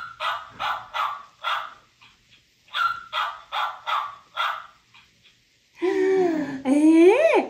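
A children's toy dog yaps in two quick bursts of four to five barks each, close and clear, followed by a person's voice imitating a dog's bark in a rising, drawn-out way.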